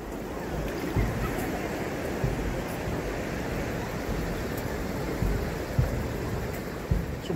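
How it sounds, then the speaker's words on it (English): A continuous broad rush of a fast-flowing river running high after rain from Storm Babet, fairly close and loud, with occasional thumps and buffeting, probably from wind. "River's nice and high with all the rain we've had from Storm Babet."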